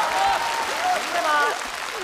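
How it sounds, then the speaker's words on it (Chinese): Audience applause at a live comedy sketch stage show, a dense steady clatter of many hands mixed with crowd noise and overlapping voices throughout. "能不能从前到后来点掌声啊"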